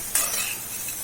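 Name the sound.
bitter gourd cooking and sizzling in a pan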